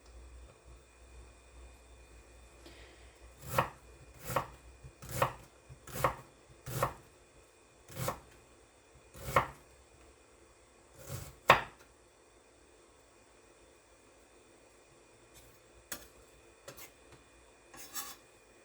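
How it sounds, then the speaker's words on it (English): Knife blade chopping vegetables on a cutting board for homemade salsa, about a dozen crisp, close thumps in a steady rhythm, then a pause and a few sparser cuts near the end. "I take my knife to the center, and then I make the size cuts that I want"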